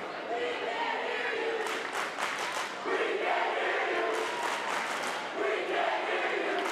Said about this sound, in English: Get a little cheer off happening in the stands